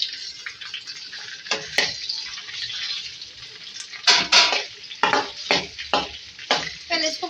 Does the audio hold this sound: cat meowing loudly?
no